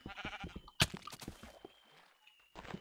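Sheep in the Minecraft video game give a rapid run of bleats and a sharp hit sound, then the game falls quiet before more noise returns. The bleating is fairly quiet overall.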